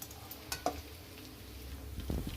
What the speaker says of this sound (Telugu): చూడండి బడీలు ఎంత బాగా ఫ్రై అవుతున్నాయో